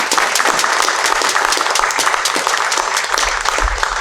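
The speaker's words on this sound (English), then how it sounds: "Can we give them all a nice round of applause?" At a school board meeting, the audience gives student performers a loud, steady round of applause, thick and continuous clapping from a crowd close by with no pauses.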